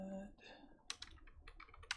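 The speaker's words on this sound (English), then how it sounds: "I'll just be typing in my plugs" Rapid clicks of typing on a computer keyboard, closely miked, come in uneven bursts of keystrokes after a brief moment of voice.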